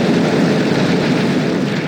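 Mauser cannon fire in a video game, heard as a continuous loud, dense roar of rapid booming shots with no pauses, close and alone, without talk.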